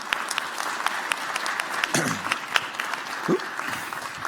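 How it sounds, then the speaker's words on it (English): Audience at a health IT modernization tech forum applauding two panel speakers, a steady wash of clapping at moderate level with a few louder individual claps standing out and a brief voice near the middle. "So can I get a round of applause for the two of them?"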